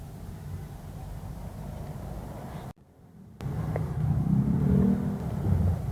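Mazda 323 Familia engine with a T25 turbocharger and front-mount intercooler cranking during a cold compression test: a steady low mechanical rumble, a brief drop-out near the middle, then a louder, rougher churn.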